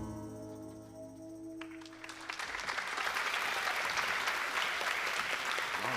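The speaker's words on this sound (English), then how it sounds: "Have another round of applause for our ED Law presenters tonight." Audience applause at the EDHS Showcase 2025 for the ED Law presenters, starting after a sustained musical tone and swelling into broad, steady clapping from a sizable crowd that keeps building to the end.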